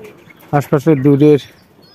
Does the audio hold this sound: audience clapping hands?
no